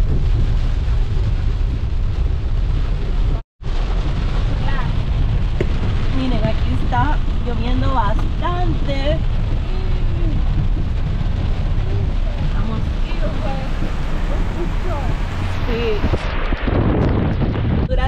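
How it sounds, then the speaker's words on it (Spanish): Steady, dense summer rain in Honduras with gusts buffeting the microphone, while voices and other sounds come and go over it; a brief dropout near the start. "Está lloviendo en pleno verano"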